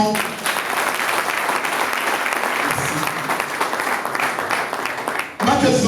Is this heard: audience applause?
yes